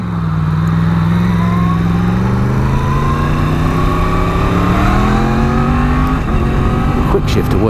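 A 2017 Yamaha MT-10 SP motorcycle pulls hard and close, its engine note climbing steadily through quick-shifter gear changes under constant wind rush, with a brief break near the end.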